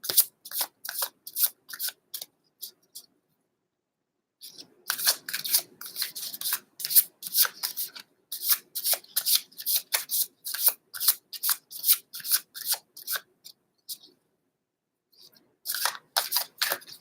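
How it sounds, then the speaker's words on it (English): Tarot cards being shuffled up close in a quiet room, in bursts of crisp riffling snaps with short pauses between rounds and a longer gap near the start. "That's the first thing that entered my mind when I was shuffling these cards."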